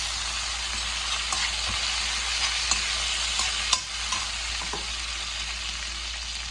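Chicken curry ingredients being stir-fried with a ladle in a hot pan, Telangana style, giving a continuous loud sizzle with scattered scrapes and knocks of the ladle against the metal.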